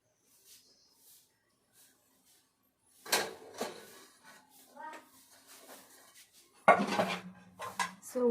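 Metal pots and vessels being gathered for washing in a village kitchen: sparse, close clanks and rattles with a couple of louder metallic knocks, interspersed with faint household voices.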